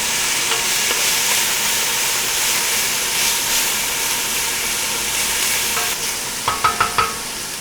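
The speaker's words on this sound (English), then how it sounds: "And you just let this saute for about 2 to 3 minutes, or until the onions get a little translucent" Onions saute in a pan for a homemade pasta Bolognese, a constant close sizzle and hiss, with a few sharp clinks of a spoon or spatula against the pan near the end and no talking.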